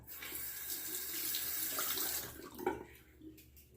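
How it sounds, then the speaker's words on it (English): Tap water runs steadily into a sink to wet a Micro Touch One razor during a wet shave, a close, continuous splashing stream that tapers off near the end with a small clink. "I'll set the brush down there and I'll wet the razor."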